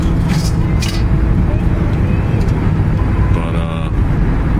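A Concorde car driving produces a continuous low engine and road rumble from inside the cabin, steady and fairly loud throughout, with faint higher whines above it.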